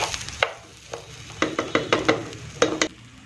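Rice for pulao stirred and scraped in a hot pan, a series of sharp scraping strokes over a faint steady sizzle, close up.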